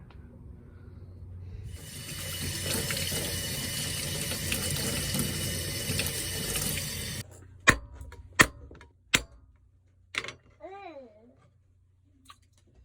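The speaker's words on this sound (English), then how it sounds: "Add a little bit more water, because we're going to cook like 4 or 5 hours." Water pours steadily into a cooking pot for bone soup, a rushing splash lasting several seconds, then a few sharp knocks and clatters in the kitchen, with a brief voice near the end.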